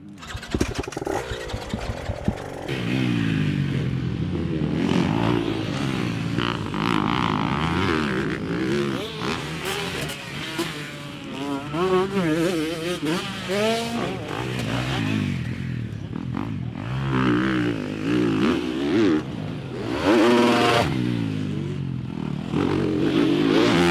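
Dirt bikes race around a supercross track, engines revving up and down continuously at close range with throttle surges and gear changes, after a quiet start; no talking.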